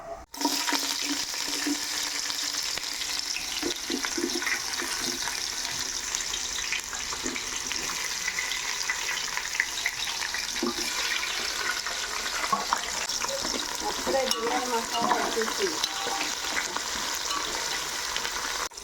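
Onion pieces dropped into a pot of hot oil for mutton biryani, giving a steady, close sizzling hiss that carries on throughout with small crackles and stirring clinks, no voices.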